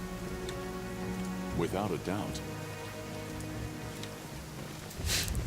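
Rain falling in the fantasy role-playing game Pathfinder: Kingmaker, a steady hiss of drops on the ground that runs throughout. A voice speaks briefly over it, and a light musical tone hums underneath.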